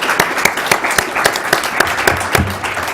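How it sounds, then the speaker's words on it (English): Audience applause for a speaker at the D4ALL 2014 conference session, a steady round of many hands clapping in a hall, dense and sustained for the whole stretch with no talk over it. "we'd like to have another round of applause,"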